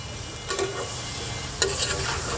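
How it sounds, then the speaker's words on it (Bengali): Bottle gourd curry with stinging catfish is stirred and fried in a pan: a steady sizzle runs throughout, with two brief scraping stirs standing out, one early and a sharper one past the middle. "মশলাও কষানো হয়ে যাবে খুব সুন্দর করে মিক্স করে দিলাম"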